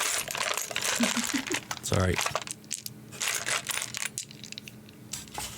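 Dice drop and roll in a box full of dice, with rattling clacks and a quick run of hard ticks, followed by brief talk.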